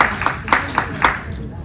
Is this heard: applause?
yes